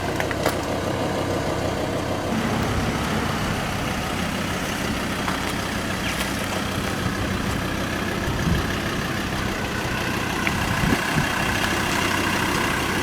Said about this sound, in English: I left the engine going during the roadside check